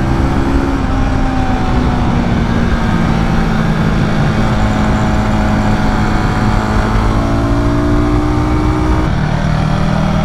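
A Royal Enfield Guerilla 450 roadster motorcycle holds third gear on the road, its engine droning steadily and loudly with slight pitch shifts, wind rumbling throughout.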